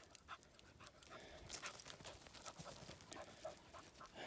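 Ruby the dog panting hard after climbing a steep hill on a South Wales valleys walk, with quick rhythmic breaths close by and a few scuffling steps.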